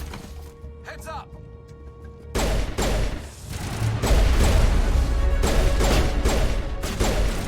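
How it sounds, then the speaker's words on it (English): Sustained bursts of gunfire in the Mass Effect video game, loud and dense once the shooting breaks out, with game voices and a player talking around it. "Sure did kind of just start shooting"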